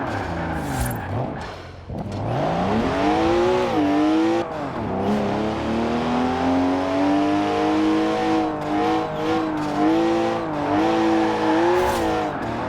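A BMW in Forza Horizon 4 driving hard, the engine note rising and falling through revs and gear changes with a sustained loud drone and occasional tire noise.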